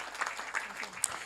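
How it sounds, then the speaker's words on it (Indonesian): An audience at the inauguration of the Satria-1 satellite and 4G BTS operations with Indonesian President Jokowi gives a brief burst of clapping, mixed with a murmur of voices. "Kita berikan tepuk tangan Bapak Ibu sekalian"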